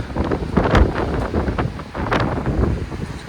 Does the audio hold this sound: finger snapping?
no